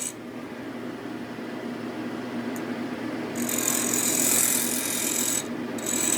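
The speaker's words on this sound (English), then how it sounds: "I speed up the lathe and get it in balance" A wood lathe turns a padauk and resin bowl blank, a steady close whir with a rough hum that brightens and rises in pitch partway through as the speed increases, running continuously with no talking.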